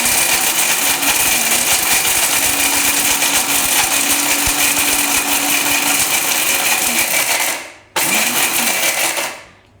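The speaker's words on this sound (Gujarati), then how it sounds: "લગાતાર મિક્સર ચાલુ નહીં રાખવાનું, નકર આ આપણે મિક્સરની ચકરી ભરી જાય એમ." A kitchen mixer grinder whirs loudly and steadily while grinding asafoetida (hing) powder, cutting off briefly near the end, restarting for a moment, then winding down.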